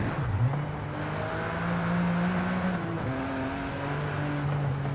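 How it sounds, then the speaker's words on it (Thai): Three-cylinder Ford Fiesta ST engine in Forza Horizon 5, droning steadily at mid revs with a couple of pitch shifts as it climbs and settles, loud and close with no talk over it. "หรือด้วยความที่มันเป็นรถสามสูบปะใช่ไหม มันเป็นเครื่องสามสูบอะเนาะ"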